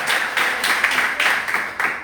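A church congregation applauds during a celebration service, with dense, steady clapping from many hands that swells in brief waves, fairly loud and filling the room throughout.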